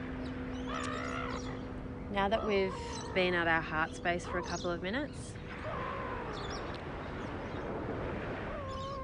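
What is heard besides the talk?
seagulls calling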